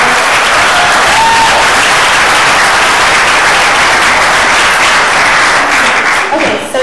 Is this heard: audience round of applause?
yes